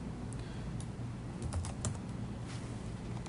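Quick clicking keystrokes on a computer keyboard, close and clear, in a steady burst of typing with a few louder taps, with no talk over it.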